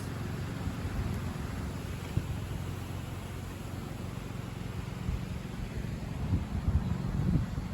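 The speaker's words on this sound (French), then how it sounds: "il y a une petite série de rafales atteignant les 55 km/h" A south wind blowing in gusts reaching about 55 km/h, a steady broadband roar of wind noise that swells slightly toward the end, with no voices.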